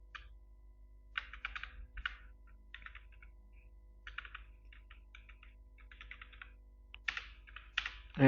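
Typing code on a computer keyboard, quick bursts of crisp close key clicks separated by short pauses, ending with a heavier thump.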